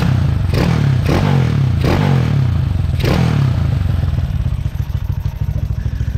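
A motorcycle engine revs up in several sharp bursts, then settles back into a steady, close idle.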